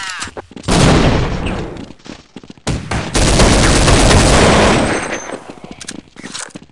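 Rapid, loud gunfire from a Counter-Strike match, with dense bursts of automatic fire filling most of the stretch and a short lull in between.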